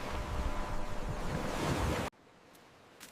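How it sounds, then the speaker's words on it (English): Ocean waves surge as a loud, broad, continuous wash of surf for about two seconds, then cut abruptly to quiet, leaving only faint background sound. "Across the waves they sail."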